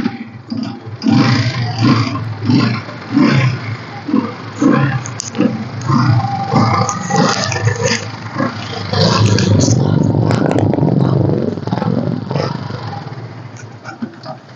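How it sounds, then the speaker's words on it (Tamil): A 2014 scooter with a slightly weak battery is started and then runs, giving a rough, steady engine drone that grows loud in the second half after voices talk near the start. "வாங்க ஸ்டார்ட் பண்ணி காமிக்கிறேன்."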